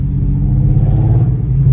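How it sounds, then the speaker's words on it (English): An Infiniti Q50 with an exhaust leak gives a loud, steady low rumble at idle or light throttle, close and continuous with no voices. "I know you guys can hear that exhaust leak"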